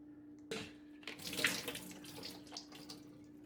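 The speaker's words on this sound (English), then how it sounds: "I can wash my hand" Water runs from a kitchen tap as hands are washed, a soft steady splashing with a few louder bursts, close by and quiet, with a faint electrical hum underneath.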